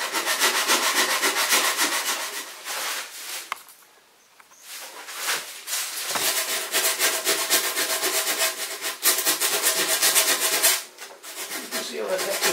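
Steady rubbing strokes of sandpaper on a carved wooden model of a pike fish, close and continuous with rhythmic scratchy passes and a couple of short pauses.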